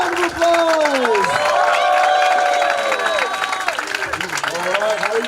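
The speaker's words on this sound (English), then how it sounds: "Let's give him a big round of applause!" Audience applause and cheering from a crowd at the Peace Cup Winter 2025 event, loud and sustained with whoops and voices mixed in throughout.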